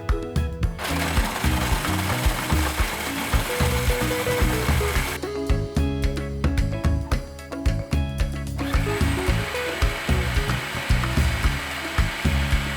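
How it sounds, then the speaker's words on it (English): A food processor grinds cheesecake crust crumbs with brown sugar in a loud, continuous mechanical whir whose tone shifts partway through, with no voices. "You put that in the food processor with the brown sugar."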